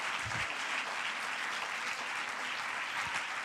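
A church congregation applauds in praise at a Spanish-language service, giving steady, dense clapping that is faint and distant throughout.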